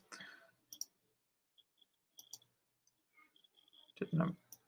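A computer mouse gives several quick, crisp clicks spread across a quiet pause, with a person speaking softly before and after.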